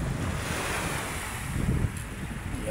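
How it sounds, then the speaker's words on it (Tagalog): Rough sea waves wash along the Manila Bay shoreline under a steady wind roar, a continuous moderate surf wash with no voices. "Magalaw pa rin yung ating dagat."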